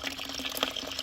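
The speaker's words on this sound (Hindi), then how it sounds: "मैं पानी भर रही हूँ" Water running from a weak, low-pressure tap in a Himachal village home, filling a container for watering garlic; a steady, close splashing trickle with no talk.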